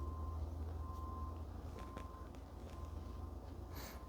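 Faint, steady electronic beeps from a reversing truck, repeating at a regular pace in the distance over a constant low engine rumble.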